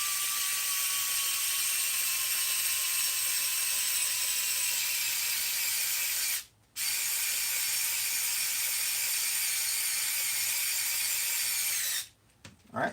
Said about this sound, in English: But we're going to bolt that back down.